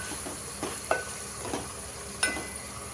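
A spoon stirring blended tomato paste into frying dhaba-style chole masala in a pan, steady sizzle under a few distinct scraping strokes, close and clear with no talking.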